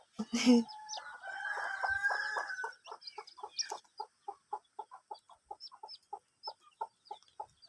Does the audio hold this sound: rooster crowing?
yes